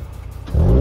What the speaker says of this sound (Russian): сейчас мы запустим мой Civic, пусть прогревается